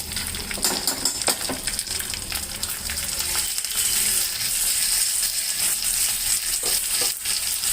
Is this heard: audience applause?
no